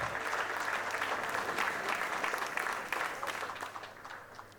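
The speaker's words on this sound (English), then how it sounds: "We deserve ourselves a round of applause." An audience at an art school convocation ceremony breaks into a round of applause, dense, fairly distant clapping that holds steady and then gradually thins out.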